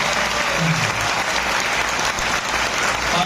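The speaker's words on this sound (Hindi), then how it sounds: "जिनकी तालियां बज रही है मैं उनके लिए और अभिवादन करता हूँ" Seminar audience clapping together in a hall, a thick, sustained wash of applause at steady loudness, with faint crowd murmur mixed underneath.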